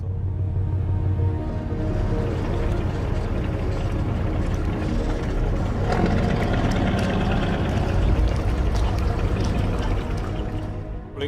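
Ship engines rumble steadily while a vessel is eased alongside the quay at the Port of Rotterdam, a continuous low drone with water sloshing and churning close by, loud and unbroken throughout.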